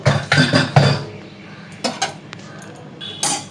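Pressure cooker lid being handled and opened after cooking mutton curry, a few close metallic clanks and clinks in short clusters separated by quiet pauses.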